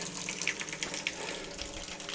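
Spring water running steadily at the Koryto spring on Dzherelna Street in Kremenets, Ukraine, a continuous close splashing flow like water from a spout with no talking over it.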